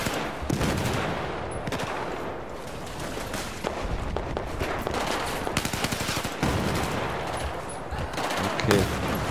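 Rapid gunfire from the video game Battlefield 4 crackles in sharp bursts and machine-gun volleys throughout, with occasional footsteps and a voice speaking briefly.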